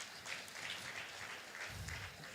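Faint, distant applause from an audience at a South-South business summit in Nigeria, a steady soft patter of many hands lasting the whole moment with no voices on top.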